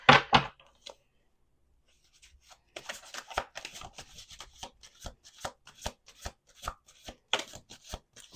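Tarot cards are shuffled in quick riffles, starting with a short burst, then a pause, then a longer run of crisp, close flutters and taps.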